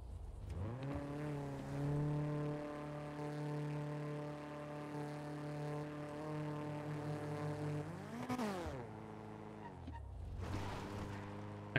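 Car engine in NoPixel roleplay, a GTA-based game, held at steady high revs with the accelerator pressed, then dipping and surging again near the end; a loud, continuous synthetic engine drone with no talking.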